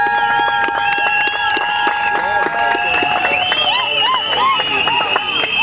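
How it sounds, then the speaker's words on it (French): Steady, dense clapping from a crowd at a civil wedding, with high wavering cheers and voices rising over it throughout. "tenez-vous debout, monsieur Aimé, sous vos applaudissements"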